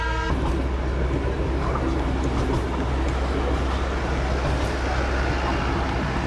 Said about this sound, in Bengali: তার মাঝখান দিয়ে আমাদের ট্রেন চলছে